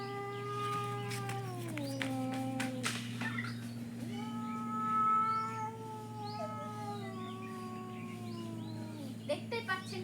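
Two cats square off, one white, one bitten and with its tail puffed up, letting out long, wavering yowls that rise and fall in a sustained caterwaul, close and continuous, with a short sharper outburst near the end.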